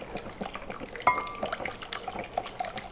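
Vanilla-infused milk pours from a pan into whisked egg and sugar for custard, giving a short splashy liquid stream with light clinks and stirring noises, fairly close and without talk.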